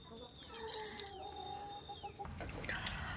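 Chickens cluck softly at a distance, with scattered bird calls and some rustling nearby.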